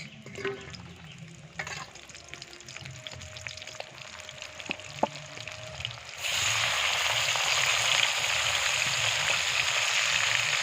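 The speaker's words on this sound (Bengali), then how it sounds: "পেঁয়াজটা একটু ভাজা ভাজা হবে।" Sliced onions and a bay leaf frying in oil in a pan: a quieter sizzle with a few clicks at first, then a sudden louder, steady hiss of frying that carries on close up.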